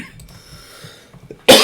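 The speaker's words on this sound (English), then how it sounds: "I'm coughing a lot today." A single sharp cough bursts out close and loud at the end after near silence with faint clicks.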